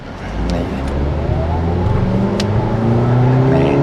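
A Suzuki XL7 engine pulls away from a standstill, its note rising steadily as the car accelerates, heard from inside the cabin with a constant loud hum and no talk.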